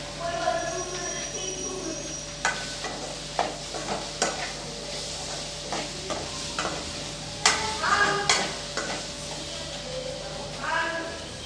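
Bitter gourd fries in oil for a spicy South Indian stir-fry while it is stirred. A continuous sizzle is broken by repeated scraping and clattering strokes of a spoon in the pan, some of them loud and close.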